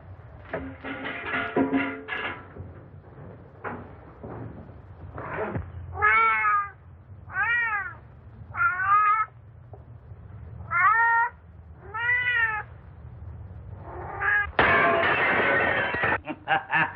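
A cat meows repeatedly, several drawn-out, rising-falling calls spaced a second or two apart, clear and close, following some quiet background sounds and ending in a burst of broadband noise.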